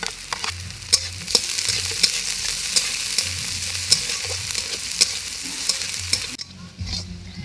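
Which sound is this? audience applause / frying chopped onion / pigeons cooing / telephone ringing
frying chopped onion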